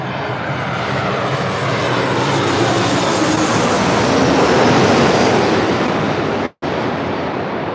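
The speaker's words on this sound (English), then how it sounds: "1223 coming in from Tucson on a MAX 8" A Southwest Airlines Boeing 737 MAX 8 arriving at LAX from Tucson produces a loud, broad jet roar that builds steadily and peaks close by before a brief cutout.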